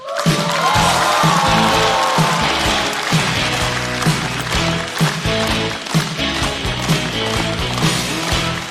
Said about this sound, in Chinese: 掌声有请王子涵